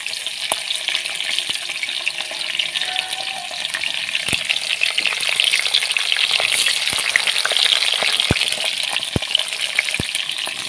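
Beans and capsicum frying in oil, a loud, continuous crackling sizzle with occasional sharp pops and a few clinks of a utensil against the pan.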